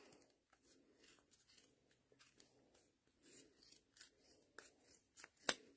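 Scissors snip through crochet yarn in a series of soft, quiet cuts at a steady rhythm, close up with no talking.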